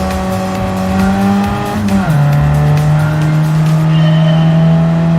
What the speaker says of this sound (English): the Mini sounds good with the muffler